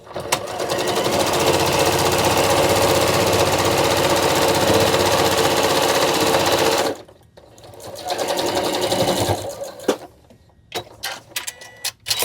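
A sewing machine stitches steadily across a pinched seam allowance on a fabric rice bag, a continuous close whir lasting about seven seconds, then stopping and restarting for shorter bursts amid quieter handling noise.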